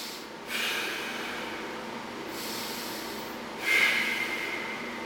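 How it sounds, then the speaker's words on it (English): Slow, deep diaphragmatic breaths close to the mic during kettlebell swing training: a long airy inhale, a steady pause, then another forceful rush of breath, with no talking. "Now, diaphragmatic breathing,"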